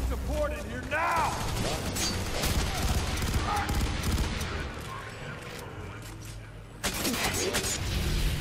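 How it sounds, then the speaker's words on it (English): Gunfire in the video game FEAR 3 crackles in repeated bursts of rapid shots and mechanical clatter, with a sharp renewed volley near the end and scattered shouted voices underneath. "How could I possibly be getting shot at?"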